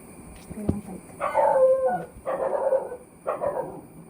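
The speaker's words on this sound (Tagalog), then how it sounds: "There is a dog, that's why she's barking." A dog barks outdoors in a handful of separate bursts, moderately close and fairly loud against a faint background, during rainy weather in India.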